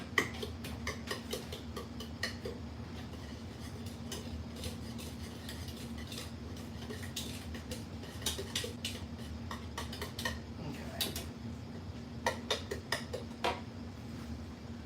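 A utensil stirs chocolate cobbler batter in a bowl to break up chunks, making a quiet run of clicking, tapping scrapes in an uneven rhythm, close and soft over a low steady hum.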